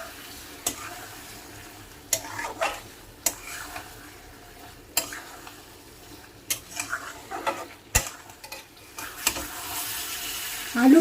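Potato and pointed gourd masala is stirred in a pan with a little water, with repeated scraping strokes at irregular intervals over a low sizzle that grows louder at the very end.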